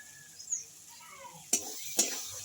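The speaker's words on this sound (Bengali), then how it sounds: "দিয়ে আমি একটু ভালো করে মশলাটা কষিয়ে নেব।" Masala paste with Kashmiri chilli powder being stir-fried in a pan for Kashmiri aloo dum, a quiet background sizzle broken by two sharp spoon scrapes against the pan.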